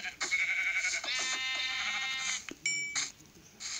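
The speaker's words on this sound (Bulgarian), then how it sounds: "Искаме да убием овцата." A sheep in the video game Minecraft bleats in a few wavering cries, loud and close, with a short gap before a final bleat.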